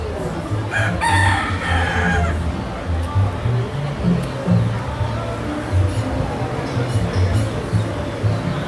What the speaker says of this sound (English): It's time for the chickens to roost, so that's when they jump up in the trees.